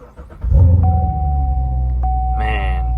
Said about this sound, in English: Start her up, you can even hear her roar.